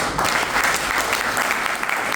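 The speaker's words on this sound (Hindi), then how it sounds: "उनके लिए ताली बजा दो" Crowd applause for leader Dinesh Chaudhary at a business seminar, a dense, steady clatter of many hands clapping at once, loud and close for the whole stretch.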